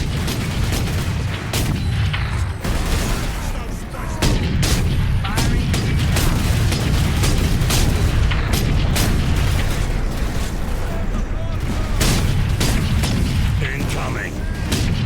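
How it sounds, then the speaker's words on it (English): Incoming artillery fire pounds in Warhammer 40K: Space Marine, a loud dense barrage of booms and explosions with clanking mechanisms and voices mixed throughout. "Incoming fire."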